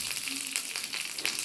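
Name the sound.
curry leaves sizzling in hot oil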